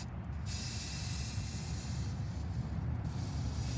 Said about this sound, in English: from far away, spray them.